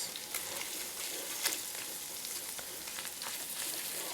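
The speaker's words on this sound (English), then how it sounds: "we're going in with 2 tablespoons of tomato paste, all of that garlic and shallot. Let's give that a good mix" Tomato paste, garlic and shallot being mixed in a pan for a seafood dish, a soft, fairly quiet sizzle with faint crackles and a brief scrape or clink partway through, no one speaking.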